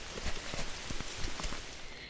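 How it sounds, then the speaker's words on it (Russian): Heavy rain falls through a forest in Ireland, a dense, even patter of drops on leaves and ground with a few sharper close splashes, steady and fairly quiet, with no voices. "Ой, какой здесь сильный дождь начался."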